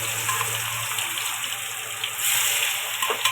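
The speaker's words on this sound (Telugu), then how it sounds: "దీన్ని నూనెలో వేసుకుంటున్నాం, డీప్ ఫ్రై చేస్తున్నాం." Salted, chilli-coated paneer pieces deep fry in oil, making a dense, close, steady sizzle that swells slightly near the end.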